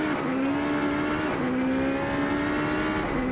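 Race car in Assetto Corsa during a TGR eRacing Championship Malaysia race, its engine droning steadily at high revs with brief dips as the throttle lifts and reapplies, loud and close throughout.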